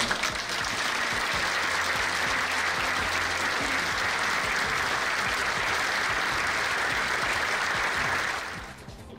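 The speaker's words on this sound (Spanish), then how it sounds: "un fuerte voto de aplauso" Steady, dense applause from an audience at a formal institutional event fills the room for about eight seconds, then fades out at the end.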